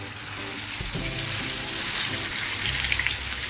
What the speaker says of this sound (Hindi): फिर मैं ये डालूंगी इसमें डाल लेंगे तेल में